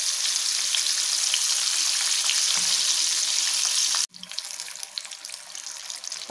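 Paneer fingers deep-fry in oil on a medium flame, a loud dense continuous sizzle and bubbling that cuts off abruptly, then resumes slightly softer and more crackly.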